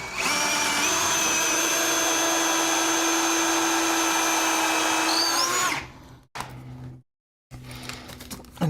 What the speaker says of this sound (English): I have to countersink these to make it look nice